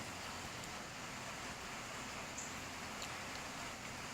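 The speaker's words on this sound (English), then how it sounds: "Sound of rain just hitting the roof and stuff." Rain pattering steadily on a house roof during a sunny shower with occasional thunder, a soft, even wash of drops with no distinct rhythm, continuous and fairly quiet throughout.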